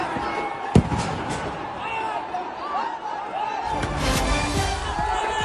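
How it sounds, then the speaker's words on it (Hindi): Fireworks and crackers going off over a football ground during a match in Malappuram, Kerala: scattered bangs, one sharp loud blast early on, and crackling amid crowd noise and chatter throughout. "जब ये आतिशबाजी हो रही थी, जब पटाखे फोड़े जा रहे थे"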